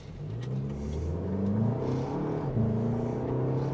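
A 2024 Toyota Grand Highlander accelerates through its gear changes, a steady mid-pitched engine drone rising and dropping as it shifts, heard from inside the cabin with a constant road hum underneath.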